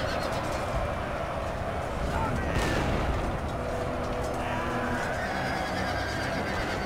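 Artillery fire rumbles through a Napoleon: Total War battle, a steady wash of booming gunfire with one sharper burst partway through, set against constant battlefield noise.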